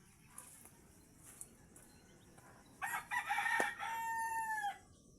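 Chickens around a rural house, with scattered soft clucks followed by a rooster crowing clearly and fairly close in one drawn-out call near the end.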